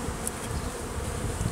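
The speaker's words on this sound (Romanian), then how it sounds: "Albina" Honey bees hum in a dense, continuous buzz at an opened hive frame. The buzz is soft and close throughout, with no voices.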